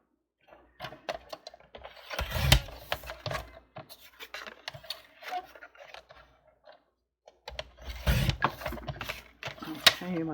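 Watercolor paper being cut into strips gives irregular crisp snips, rustles and handling clicks in two bursts separated by a quiet pause, close and fairly soft, with a person talking intermittently.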